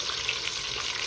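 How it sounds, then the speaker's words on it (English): A pork leg searing in a hot pan gives a bright, steady hiss of sizzling fat, close and continuous for a brief stretch. "So I'm going to sear this on both sides."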